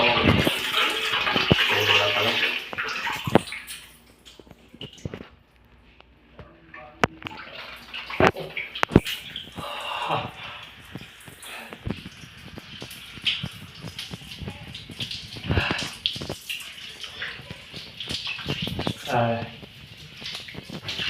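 Water from a shower runs with an uneven hiss and splash, rising and falling, while people talk intermittently over it.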